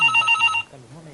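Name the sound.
telephone ringing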